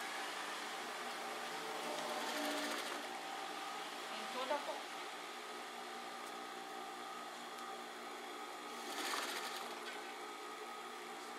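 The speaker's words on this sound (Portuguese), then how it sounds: "aí eu já passei a costura aqui na carinha do Mickey, na cabecinha dele, e já coloquei o babado" Sewing machine stitching a ruffle onto a fabric rug decorated with a Mickey face, running steadily and close throughout, with a few brief swells in speed and a voice speaking faintly underneath.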